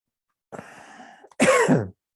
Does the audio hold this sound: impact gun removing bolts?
no